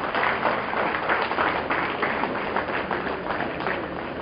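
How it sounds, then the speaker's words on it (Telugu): Steady applause from a seated audience at a professor's felicitation ceremony, a dense wash of clapping hands holding level for the full stretch with no pauses. "చప్పట్లు కంటిన్యూ చేయొచ్చండి."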